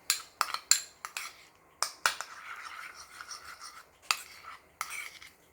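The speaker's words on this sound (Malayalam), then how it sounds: "ഈ ബാക്കിയുള്ള ബട്ടറിലേക്ക് ഞാൻ കുറച്ച് ക്രഷ്ഡ് ചില്ലി ചേർക്കുന്നുണ്ട്. ഒന്ന് മിക്സ് ആക്കി എടുക്കാം." A utensil stirs and scrapes butter mixed with crushed chilli in a small bowl, producing a series of sharp clinks and scratchy strokes at an irregular pace, close and fairly quiet with short gaps between.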